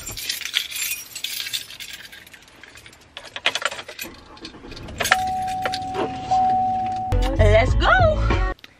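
A bunch of keys jangles nearby in quick metallic rattles during someone's search for them, followed by car and background noises later on.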